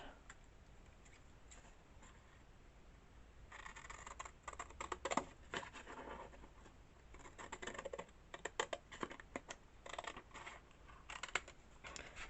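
Scissors cut paper for a journal page at a quiet craft table, a faint run of close, rapid snipping and crisp ticks that grows busier midway, with no talk.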